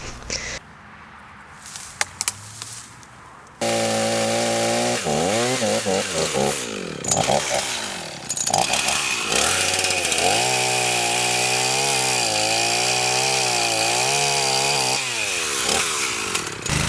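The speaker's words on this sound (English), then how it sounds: "Use a chainsaw to trim down the stump close to the ground" A chainsaw cuts down a dead tree stump close to the ground. The engine idles briefly, then roars into a loud, sustained high-revving cut with pitch dips as the chain bites the wood, heard up close.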